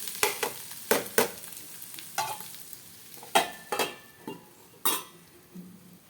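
Vegetables for mezhukkupuratti being stir-fried in a pan, with a spatula scraping and clattering against the metal in irregular bursts over a soft sizzle, close up and with no talking.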